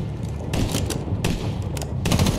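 G3 rifle gunfire in Medal of Honor (2010), several short, sharp shots spaced apart over a dense rumbling battle background, moderately loud.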